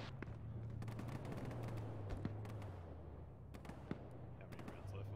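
Gunfire in the video game Arma, with rapid bursts of sharp shots and scattered single cracks trading across a distance, while a low voice murmurs underneath.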